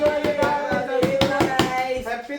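A small group claps hands in a quick, steady rhythm of sharp close slaps for a couple of seconds, with a few voices underneath.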